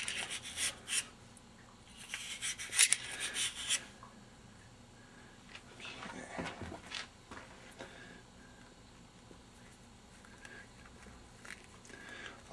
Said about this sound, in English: clean that ramp a little bit, scrub it with the brush